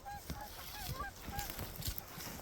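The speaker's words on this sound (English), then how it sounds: "We got some geese going flying south this morning." Several geese flying south honk repeatedly overhead on an early morning in eastern Montana, a scattered chorus of nasal calls at moderate distance over faint background noise.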